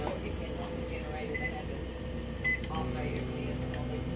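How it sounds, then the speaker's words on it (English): A microwave oven runs on power from a dual fuel whole-house generator, giving a steady, continuous electrical hum with a couple of faint beeps partway through. "Got the microwave running."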